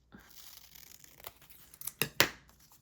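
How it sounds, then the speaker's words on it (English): Paper for a handmade writing journal being trimmed, faint rustling then a few crisp cuts and tearing snaps growing louder near the end. "I'm just going to trim this down a little bit."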